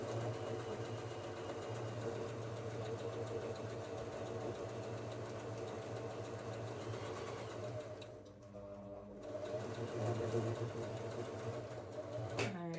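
Sewing machine stitching the brim edges of a reversible bucket hat: a steady, quiet mechanical whir that runs continuously, briefly dips, then resumes.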